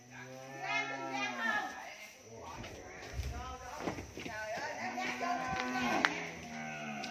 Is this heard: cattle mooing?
yes